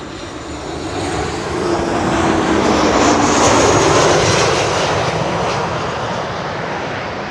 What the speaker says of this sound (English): This was KLM flight 924, 737, returning from Eden.